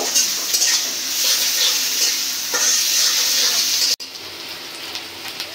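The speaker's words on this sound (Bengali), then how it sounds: "পেঁয়াজ রসুনটা ভাজা নিচ্ছি" Onion, garlic and green chili fry in hot oil in a pan for a curry with taro. A steady, close sizzle is broken by stirring scrapes, then drops suddenly to a quieter hiss near the end.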